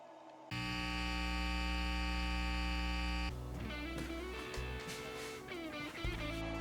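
A workshop vacuum kicks on automatically together with a power tool, a loud steady motor hum and whine starting abruptly and holding, then shifting into a busier, rougher running sound.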